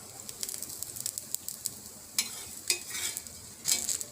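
A crispy wheat flour dosa cooks on a pan after being flipped, giving off a soft steady sizzle punctuated by a few scraping and crackling bursts close by, with no voices.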